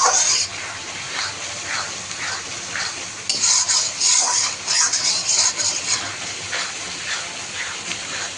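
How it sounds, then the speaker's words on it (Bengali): Spice paste for mutton curry is stirred in a cooking pot, with loud, close scraping strokes against the metal over a continuous low sizzle. "দিয়ে আমি আবারও অল্প হাতে নেড়ে দেবো।"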